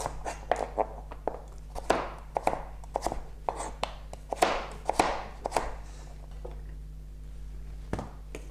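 Knife julienning vegetables on a cutting board for spring rolls, a run of crisp, close chopping taps in an uneven rhythm, some louder strokes among lighter ones, with no talking.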